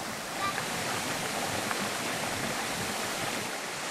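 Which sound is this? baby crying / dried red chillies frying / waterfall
waterfall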